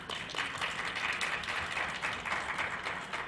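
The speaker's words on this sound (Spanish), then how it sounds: "la doctora Silvia Lourdes Conde Flores, para quien pido un caluroso aplauso, por favor." Steady applause from a seated audience at an education panel discussion, dense continuous clapping that holds at an even level throughout without voices over it.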